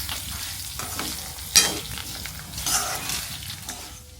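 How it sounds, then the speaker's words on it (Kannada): Spices and curry leaves fry in a pan while being stirred, giving a soft continuous sizzle broken by scraping strokes and a few louder stirring bursts, close up and without talk. "ಎಲ್ಲವೂ ಕೂಡ ಕಂದು ಬಣ್ಣಕ್ಕೆ ತಿರುಗಬೇಕು, ಅಷ್ಟು ಚೆನ್ನಾಗಿ ಅದನ್ನು ಹುರ್ಕೋಬೇಕಾಗತ್ತೆ."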